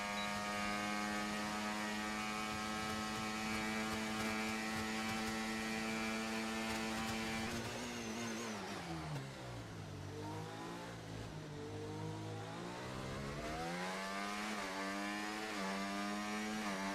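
An F1 car engine from F1 24 whines loud and harmonic, holding steady, then dropping sharply in pitch as it decelerates before climbing back up as it accelerates again, with no speech.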